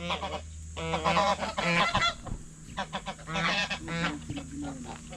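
Ducks in their pen give loud, close honking calls in repeated bursts, several birds overlapping with brief gaps between calls.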